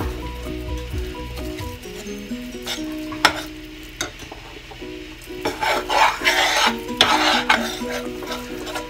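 Moong dal paste being stirred into ghee in a pan for halwa, with a steady scraping and rubbing of the spoon, soft sizzling, and a few clinks from the pan.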